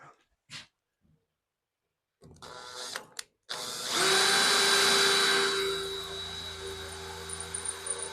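A power drill bores into a horse trailer being converted, with a few short taps and bursts first, then a loud whining run of the drill lasting a couple of seconds before tapering off.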